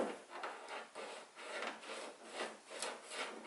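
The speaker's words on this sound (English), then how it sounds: "just carefully kind of drill through that as horizontal as I can get it" A drill bores slowly through a 1/8 inch part into foam, in a fuselage mount build for an Akuma+ model aircraft. A steady, rasping grind pulses in repeated strokes, close and even in level, with no voices.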